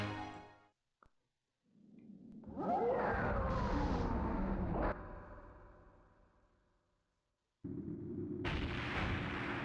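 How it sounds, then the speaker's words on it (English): Cannon fire in the Skies of Arcadia: Legends video game, with a deep booming blast that swells and rumbles for a few seconds before fading, followed by another sudden loud burst. "It sounds like cannon fire."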